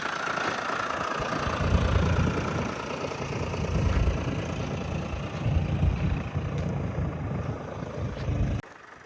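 A tractor engine runs steadily while stuck in deep sand, a rough, continuous mid-to-low rumble with slight knocking, close by and unbroken until it cuts off abruptly at the end.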